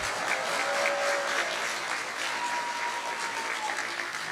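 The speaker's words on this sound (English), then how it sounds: "can we please get a final round of applause for all of our award winners?" An audience at an awards event applauds the winners with sustained, dense clapping that holds steady throughout, with no talk over it.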